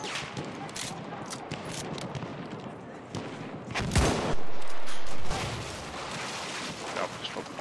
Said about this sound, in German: Der schießt mit dem Mörser hier die Decke weg